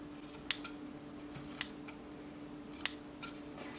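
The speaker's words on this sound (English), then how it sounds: "I'm going to take this white cord and I'm just going to pull a little bit on the middle, those middle cords that are in the center of your paracord, just a little bit, and then I'm going to cut them." Scissors snip through white paracord center strands for a DIY dog collar, giving three sharp, distinct cuts spaced across a quiet background with a faint steady hum and a few lighter clicks.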